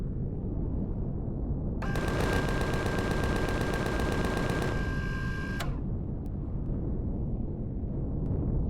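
Rapid automatic gunfire in the sci-fi survival game Empyrion Galactic Survival, a dense burst of repeated shots lasting about four seconds over a steady rumbling background, followed by a few faint distant cracks.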